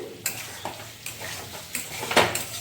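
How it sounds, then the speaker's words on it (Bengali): Chicken and potato curry being sautéed in oil until well reduced, stirred in a pan: a soft background sizzle punctuated by several sharp scraping clinks of a spoon against the pot at irregular intervals, nearby and fairly quiet. "খুব সুন্দর করে কষে নিয়েছি।"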